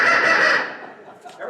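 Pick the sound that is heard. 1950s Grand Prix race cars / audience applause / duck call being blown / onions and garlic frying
duck call being blown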